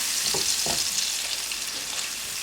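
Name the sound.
masala frying in oil on high flame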